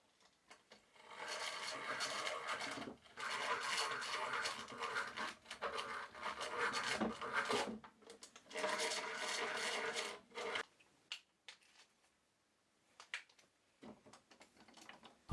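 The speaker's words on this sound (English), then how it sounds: "I then drill the holes." A hand drill bores holes in a slippery piece of wood, giving a steady grinding, rasping whir in several long bursts separated by brief pauses, close and moderately quiet, ending in a few light ticks and taps.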